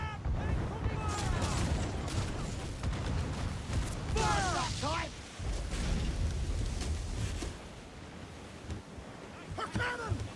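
Ship cannon fire during a naval battle in the video game Assassin's Creed IV Black Flag, booming amid crashing waves and wind, with voices shouting orders over the din.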